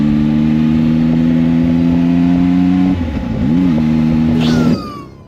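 A ZONTES 703F motorcycle engine runs close and loud with a steady droning idle, briefly dips and swells in a quick rev, then settles before cutting off near the end.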